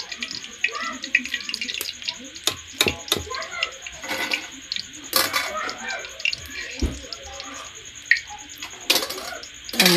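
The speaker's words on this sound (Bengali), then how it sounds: "পকোড়া ভাজা হয়ে এসেছে" Chicken pakora sizzles and crackles in hot oil during rainy weather, with steady bubbling and sharp pops and clicks of utensils close by.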